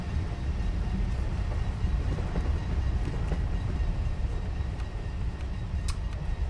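An SNG Sprinter train in the Train Simulator 2021 game passes by as a continuous low rumble, with rail noise and faint clicks running steadily throughout.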